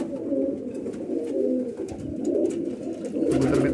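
Pigeons coo in low, throaty murmurs close by, with soft rustling in the background and no talking.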